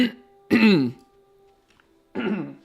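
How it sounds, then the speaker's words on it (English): A person coughs and clears their throat close to a microphone, two rough bursts about a second and a half apart over a faint steady background tone. "I shouldn't cough straight into the microphone"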